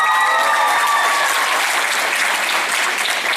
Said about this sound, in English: I would ask that you hold your applause to the end